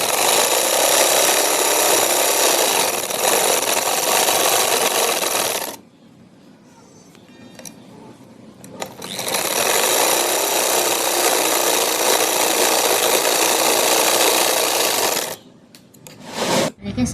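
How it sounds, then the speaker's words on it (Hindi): Sewing machine stitching fabric for a neck design: a steady, loud mechanical whir runs continuously, stops for a few seconds of near quiet, then resumes for several more seconds before a brief final burst. "चलो मशीन पर जाकर सिलाई लगा"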